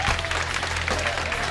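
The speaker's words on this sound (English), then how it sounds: "Give myself a round of applause." A brief burst of applause, a crowd clapping steadily for a moment with a faint voice mixed in.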